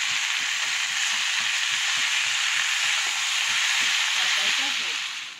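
Loud continuous sizzle of spinach frying in hot oil, with soft scraping and stirring taps underneath; no one speaks.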